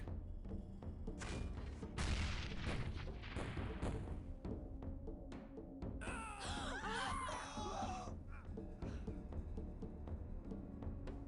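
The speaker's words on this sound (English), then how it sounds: "I'm so glad we brought the mortar" Arm-mounted mortar fire in X-piratez, a series of dull thumps and booms with rumbling impacts, followed by a burst of shrill, wailing, scream-like game sounds midway, all fairly faint.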